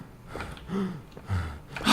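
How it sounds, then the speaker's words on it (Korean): Heavy, rasping breaths from a ghost in the horror game Disturbed come in slow, uneven pulls and exhales, close and fairly loud, with a sharper rush of breath at the end. "얘 숨소리 진짜 듣기 싫어 죽겠네."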